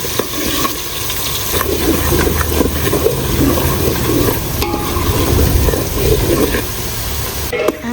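Spices temper in hot oil with dried chillies and tomatoes, giving a loud, close, continuous sizzle and bubbling with stirring scrapes and clatter throughout.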